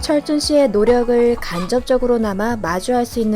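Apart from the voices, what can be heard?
No distinct noise like a dog, phone or traffic.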